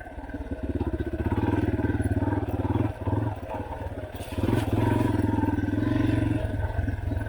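A motorcycle ridden off-road at Walker Valley roars steadily up close, the engine droning and revving, dipping briefly mid-way before pulling hard again, with no talking.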